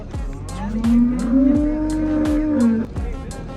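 Cattle moo repeatedly at a livestock market, a long, loud, close low bellow rising and falling over busy market noise with scattered clattering bursts.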